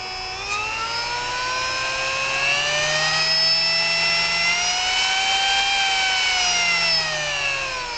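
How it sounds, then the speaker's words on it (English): A 70 mm EDF ducted fan running at low RPM: a steady, loud, close whine with several gently rising and falling tones, continuous for the whole stretch with no speech. "So that's an EDF, 70 millimeter EDF at low RPM."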